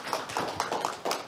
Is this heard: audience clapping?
yes